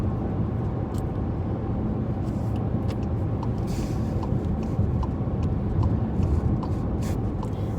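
Car driving home on a road, a steady low rumble of engine and tyre noise continuing evenly throughout, with faint ticks and no talk.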